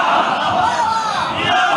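A mosque or imambargah majlis crowd of mourners shouts back a religious slogan in unison, a loud, dense, continuous roar of massed voices close by.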